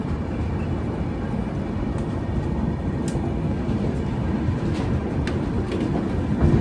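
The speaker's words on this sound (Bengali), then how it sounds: "বালুঘাট স্টেশন থেকে আমাদের ট্রেন ছেড়ে দিল" Passenger train leaving Balurghat station at night, a steady low rumble of the moving carriages with faint clicks and rattles over the track, heard from inside the coach.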